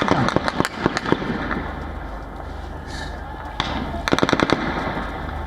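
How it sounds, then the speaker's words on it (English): Aerial gunfire aimed at and fired by protesters at D-Chowk in Pakistan amid tear gas, with rapid bursts of sharp cracks at the start and again near the end and a noisy crowd and street din between them. "that's some aerial firing that is being done, constantly being done on the protesters and by the protesters"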